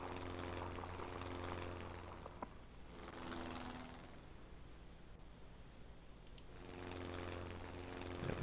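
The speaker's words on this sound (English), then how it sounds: "Enemy planes approaching." Enemy propeller aircraft in the Pacific combat game Sid Meier's Ace Patrol: Pacific Skies drone steadily, with engine hum swelling and fading as planes pass, loud and continuous with no talk.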